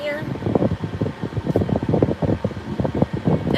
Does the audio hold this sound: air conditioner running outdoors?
yes